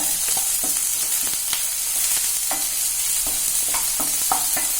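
Vegetables sauté in a hot pan with a continuous close sizzle, punctuated by repeated scraping and tapping strokes from a stirring spoon.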